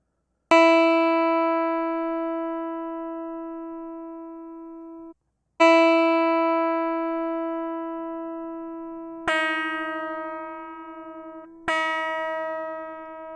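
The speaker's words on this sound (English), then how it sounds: "I'm going to go ahead and check the reference pitch again." Reference pitch tone for tuning a guitar's high E string, sounding as four sustained electronic notes that start sharply and fade slowly, each separated by a short gap, clear and alone.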